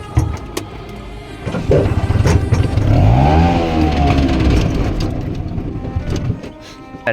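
A motorcycle engine revs up and holds a rising, whining drone for several seconds, then fades, with clattering noise around it.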